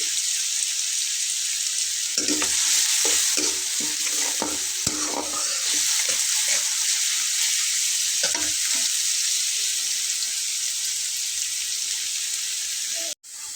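Sliced onions sizzle steadily in hot oil in a pan for a fish curry, a loud continuous hiss broken by repeated clinks and scrapes of a stirring spoon.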